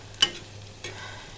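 Onions frying in a little oil until half-browned and soft, with a soft continuous sizzle, one sharp stirring clack near the start and a second scraping stroke later, close by and without talk.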